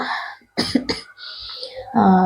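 A woman who has had a lingering cough for fifteen days lets out a few harsh, close coughs in a quick cluster, with voiced sounds just before and after.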